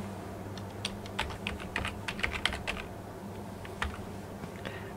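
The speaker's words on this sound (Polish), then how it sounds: "wpisuję hasło" Someone types a password on a computer keyboard in a quick burst of close keystrokes, then adds a few scattered presses over a low background hum, with no talk.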